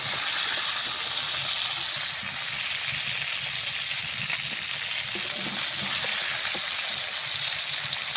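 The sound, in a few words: fish frying in oil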